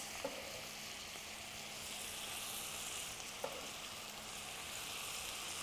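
Brussels sprouts frying in a pan with butter and minced garlic give a steady, soft sizzle with a couple of light clicks from stirring, quiet and without talk.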